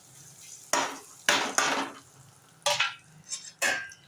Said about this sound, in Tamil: அப்படியே லைட்டாக எண்ணெயிலே நல்லா கிளறி விடுங்க